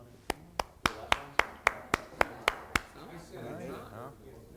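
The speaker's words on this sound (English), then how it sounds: "He's clapping for you." A single man at a wine tasting claps about ten times in an even, steady rhythm, each clap sharp and close, followed by people talking and murmuring once the clapping stops.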